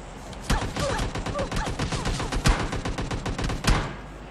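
Rapid gunfire in the PUBG Lite battle royale game crackles close and loud in dense bursts, with several heavier, sharper shots standing out among the sustained automatic fire.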